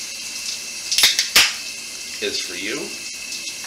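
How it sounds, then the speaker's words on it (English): Water from a shower runs as a steady hiss beneath a man's brief speech, with a couple of sharp splashy smacks standing out near the start. "And let me just get a little shower action here."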